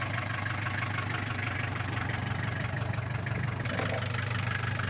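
A Porter & Haylett Connoisseur boat's engine idles steadily at close range, a continuous low rumbling drone with an even, unchanging rhythm and no talking.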